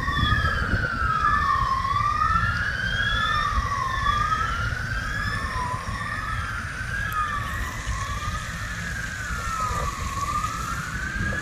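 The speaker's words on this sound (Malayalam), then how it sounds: "ഫയർ എഞ്ചിൻ പോകുന്ന റോഡിൻ്റെ അപ്പുറത്തൂടെ നമുക്കിത് ക്യാച്ച് ചെയ്യാൻ പറ്റും." A fire engine siren wails along a road, its rising and falling tone sweeping steadily and repeatedly over a constant traffic rumble for about eleven seconds, fairly loud and close, with no voices.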